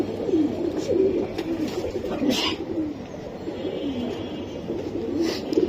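Pigeons kept for sale coo in repeated low, rolling phrases close by, with a steady murmur of birds in the background and no talk.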